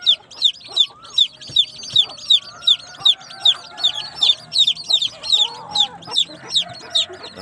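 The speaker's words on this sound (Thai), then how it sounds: "สำหรับคลินี้พามาชมลูกไก่ครับ" Chicks and chickens in a coop, a steady run of rapid high peeping from the chicks with lower clucks from adult hens underneath, close and lively throughout without any speech.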